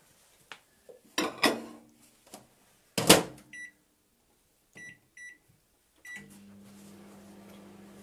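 Microwave oven heating a dish of alpaca knitting yarn dye, with door and dish clatter, a bright clunk, and repeated completion beeps, followed by the steady low hum of the oven running.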